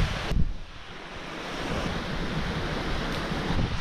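Strong wind buffets the microphone while waves surge and wash onto a beach on Bungol, Pinamalayan, Oriental Mindoro, a continuous loud roar with a few sharper gusts and no talking.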